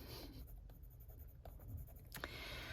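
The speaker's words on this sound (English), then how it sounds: "Pencils on the paper." Pencil scratching across paper during a fantasy colouring work session, steady soft scraping strokes close up, with a few sharper ticks and a brief louder scrape near the end, no talking.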